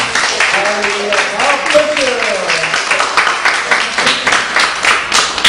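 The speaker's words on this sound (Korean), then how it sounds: "박수로 한번 격려하겠습니다" A church congregation at a seminar applauds to encourage a pastor, a dense wash of clapping that runs throughout while a voice speaks and sings over it in the foreground.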